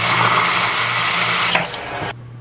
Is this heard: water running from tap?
yes